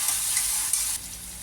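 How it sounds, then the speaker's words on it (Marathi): Sabudana khichadi ingredients fry in hot oil with a steady, bright sizzle close by, briefly stirred, then the hiss drops a little softer. "तेलात चांगली फ्राय करून घ्यायची."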